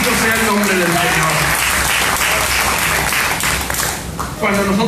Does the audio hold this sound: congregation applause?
yes